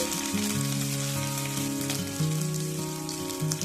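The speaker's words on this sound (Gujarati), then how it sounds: "એમાં હું રાઈ જીરું આવી રીતને તતડાવી લઉં છું" Mustard seeds and cumin crackle steadily in hot oil, a close, continuous sizzle with fine popping throughout and no voices.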